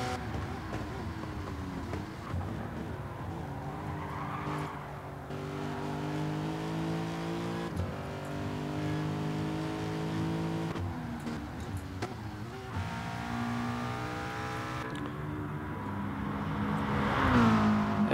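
Ferrari and Porsche race cars lapping Monza in a sim racing game, with engines droning and revving steadily through gear changes, one car's note rising as it accelerates, loud and continuous throughout.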